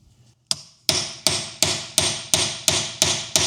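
Heavy metal-on-metal hammer blows on a locking wheel nut of a crashed Lotus Exige S, eight strikes in a steady rhythm, loud and close, each ringing briefly.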